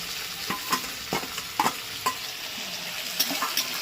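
Onion paste sizzling in a pan with fried tomatoes and chickpeas, a low steady crackle punctuated by about a dozen sharp spatula scrapes and clinks at an uneven pace, close and without talking.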